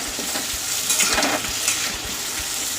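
Cumin seeds tempering in hot oil in a pan, the start of a fish curry: a steady close sizzle with brief clicks and scrapes of stirring spaced through it, and no talking.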